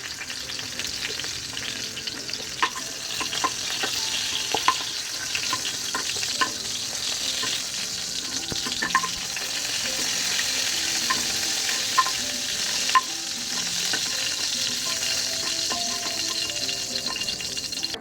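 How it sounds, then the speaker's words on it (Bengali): Pieces of pointed gourd frying in oil in a pan, a continuous close sizzle with occasional spatters and pops throughout, no voices. "পটলগুলো কিন্তু ভালো করে ভাজা হয়ে গেছে।"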